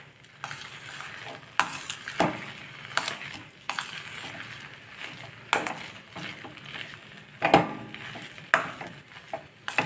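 Stirring a boiling corn mixture in a pan, a spoon scraping and sloshing through the thick batter in repeated strokes over a steady bubbling sizzle, close and clear with no talking.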